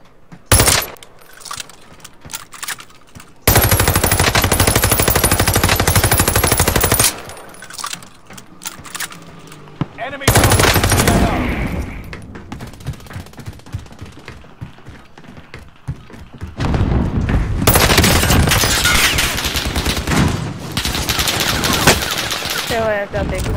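Bursts of rapid automatic gunfire from guns in a video game crackle loudly in long sustained volleys separated by shorter pops and quieter gaps, close and dominant throughout.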